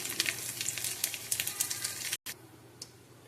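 Whole cumin seeds and whole garam masala spices sizzle and crackle in hot oil, a steady close frying hiss with sharp pops, a brief break, then the sizzle resumes more quietly.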